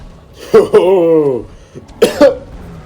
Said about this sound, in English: I laughed, and then I choked, and then I coughed